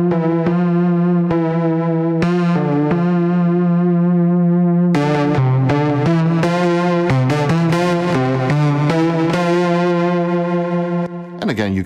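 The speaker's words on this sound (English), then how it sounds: "let's add the distortion" Sustained tone run through heavy distortion from the Kilohearts Snap Heap plugin, buzzing and gritty, with stuttering pulses and shifting harmonics throughout.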